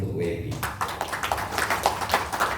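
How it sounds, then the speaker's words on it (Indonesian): Audience clapping at a motivational business talk, a short burst of scattered claps following a brief voice, fairly close and moderately loud, with crowd noise mixed in. "Tepuk tangan untuk WP"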